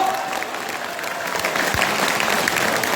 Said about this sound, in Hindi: ताली जरा ढंग से बजाओ, फिर मुझे मजा नहीं आ रहा।